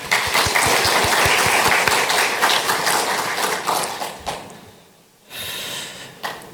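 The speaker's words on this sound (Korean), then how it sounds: "우리 격려의 박수 한번 치겠습니다" A church congregation claps in encouragement, a dense burst of applause that thins out and fades to near silence, then a brief softer flurry of clapping returns.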